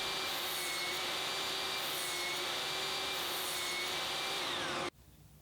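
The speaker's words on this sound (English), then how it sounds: "Next is the table saw with my crosscut sled." Table saw with a crosscut sled cutting through wood, a loud steady whine and rasp of the blade in the cut, running evenly for several seconds before cutting off abruptly near the end.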